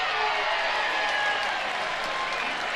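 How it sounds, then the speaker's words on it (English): Lively home crowd at a college softball game between Oklahoma and Alabama, cheering and applauding in a steady, dense roar that fills the whole moment without letup. "Lively crowd at the Rhodes House."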